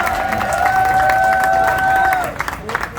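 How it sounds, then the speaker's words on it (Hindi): A crowd applauds and cheers at an outdoor mushaira poetry recital in Lahore, with a dense, loud burst of clapping that fades after about two seconds, and a sustained voice rising above it. "तालियां इनके लिए।"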